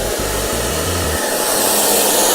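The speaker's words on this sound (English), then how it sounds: "blow dryer. Make sure it's nice and warm." A hair dryer runs continuously and loudly up close, heating protection film on a 2018 Volkswagen Golf R headlight, a steady whooshing roar with a low motor hum that shifts pitch briefly.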